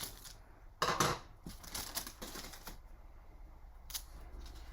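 Big scissors snip through paper for journal pockets in a few short, quiet cuts and rustles, close by in a still room.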